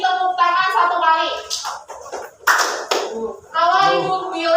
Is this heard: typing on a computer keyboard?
no